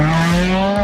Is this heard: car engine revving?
yes